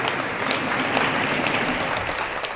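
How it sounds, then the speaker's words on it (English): Steady applause from a banquet audience, dense and continuous for the whole stretch at a moderate level, with no voices standing out. "Round of applause when Mrs. comes too."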